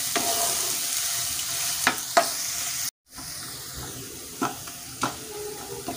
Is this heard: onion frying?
yes